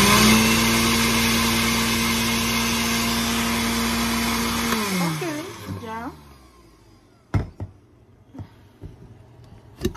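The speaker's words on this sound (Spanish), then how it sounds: "vamos a ponerle un chin de agua a la licuadora, vamos a taparla para batirlo otro poquito" Kitchen blender whirring loudly while mixing with a little water added, running steadily for about five seconds, then winding down in falling pitch, followed by a few clunks and handling knocks.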